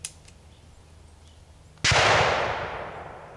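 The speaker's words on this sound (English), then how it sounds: "we're gonna do a little test fire on the little Star 22, see how she runs" A single sharp gunshot from a Star F series .22lr pistol cracks out suddenly after quiet, followed by a fading echo trailing off over more than a second.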